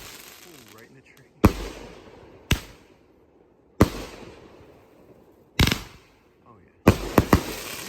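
Madox Fireworks Patriot Base 500g cake fires outdoors, five loud, sharp booming bursts at irregular intervals, each with a short echoing decay, the last a quick double or triple bang, while a person briefly speaks.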